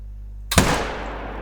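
A single sharp rifle gunshot in the hunting video game theHunter: Call of the Wild, a sudden loud crack that rolls off into a fading echo after a quiet lead-in.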